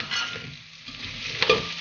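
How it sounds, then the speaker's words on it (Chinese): Garlic, onion and small chilies stir-fried in a wok, a close bright sizzle with a few scraping stir strokes and a sharper clack near the end, no talking. "现在我们加入蒜米，先炒香它。"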